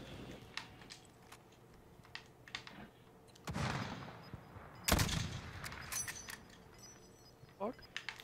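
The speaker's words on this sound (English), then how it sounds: "I got a guy shooting at me." Distant enemy gunfire in the Call of Duty Warzone battle royale game: scattered shot bursts and a couple of louder cracks among clicking and rustling, with a voice talking at times.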